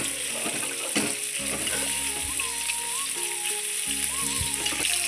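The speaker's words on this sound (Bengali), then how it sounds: "লাল লাল করে মাছ ভাজা হয়ে গেছে" Fish pieces fry steadily in hot oil, a continuous close sizzle and crackle with a few soft scrapes of a utensil, with no talking.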